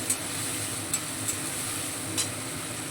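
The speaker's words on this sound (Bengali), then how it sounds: "জলের সঙ্গে আলু, ছোলা এবং মশলাটা খুব ভালোভাবে মিশিয়ে নেব" Potatoes, chickpeas and spices are stirred with a little water in a pan, giving a constant bubbling sizzle broken by a few quick spoon ticks against the metal. No speech.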